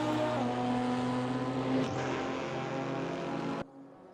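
Lotus and BMW race cars battling in a racing video game at the Shanghai GP circuit, their engines a loud, steady drone that holds for a few seconds and then cuts off abruptly.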